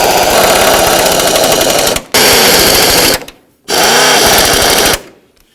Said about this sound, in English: start in all of our bolts, and we'll snug them up.